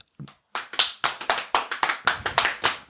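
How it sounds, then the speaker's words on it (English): A small group claps in a round of applause celebrating a Costco membership, a brief tap first, then steady, fairly close hand claps that continue to the end. "And round of applause."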